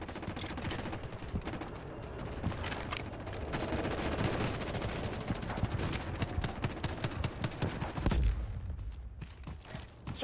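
Rapid bursts of gunfire crackle almost nonstop, dense volleys of shots from the mobile game Delta Force Mobile, tapering into scattered single shots near the end.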